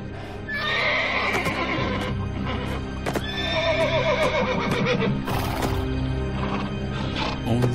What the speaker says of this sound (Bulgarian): мнозина опитват, но никой не обяздва жребеца